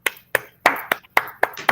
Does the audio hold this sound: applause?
yes